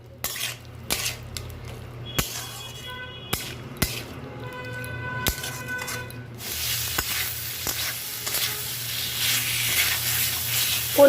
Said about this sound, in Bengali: পনিরটাকে ভালো করে কষিয়ে নিয়েছি।